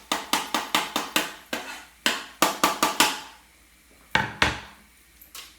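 Wooden spoon or utensil knocking repeatedly against a pan while stirring pasta with courgette and lemon zest, a run of sharp, close clacks in quick bursts with short pauses, no talking.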